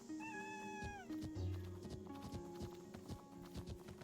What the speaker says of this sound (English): the meow that you hear in this game actually comes from from one of the creators' cat